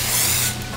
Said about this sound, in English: Now we're gonna come over to our pan, we're gonna spray it.